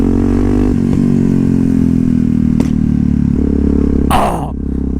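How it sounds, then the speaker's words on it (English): A Yamaha MT-03 motorcycle engine drones loudly and steadily, with a sharp exhaust pop midway and a louder broadband crack of backfire near the end as the revs drop. "the backfires are so satisfying and loud"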